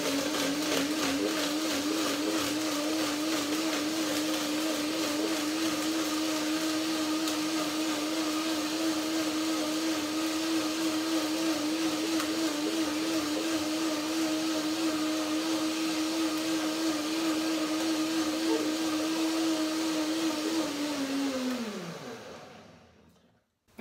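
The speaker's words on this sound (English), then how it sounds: "a quick blending, just to break the nuts down and the dates" A blender blending cashews and dates runs continuously at a steady high whir for about twenty seconds, then winds down and stops.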